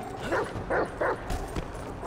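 A dog in Grand Theft Auto 5 gives three short, close yelping barks in even rhythm, then a faint whimper, over steady game background noise.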